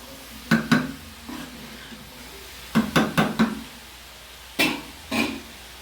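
A spoon or spatula stirs cabbage fry in a cooking pot, giving several sharp metallic knocks and scrapes in irregular clusters, moderately close in a quiet kitchen.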